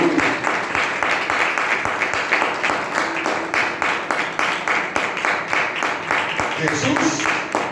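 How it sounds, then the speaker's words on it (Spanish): A church congregation claps in a rapid, rhythmic beat during a Spanish-language sermon, loud and even, with voices rising faintly among the clapping near the end. "Den un fuerte aplauso al Señor Jesucristo."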